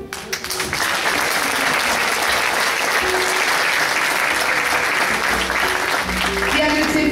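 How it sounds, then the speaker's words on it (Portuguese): Sustained audience applause fills a theatre hall at Teatro Garcia de Resende, steady and dense throughout with faint voices mixed underneath. "queria pedir uma salva de palmas"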